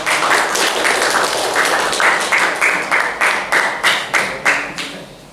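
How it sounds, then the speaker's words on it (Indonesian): A classroom audience applauds a student group during a teaching-practice lesson. Dense clapping fills the room, then settles into a steady rhythmic unison clap of evenly spaced beats before fading. "Berikan tepuk tangannya untuk kelompok."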